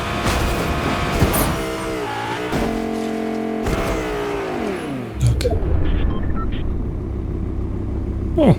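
A car driven in Fortnite hums with a steady engine drone and shifting pitch, revving up and sliding down as it changes speed, with a voice talking over it.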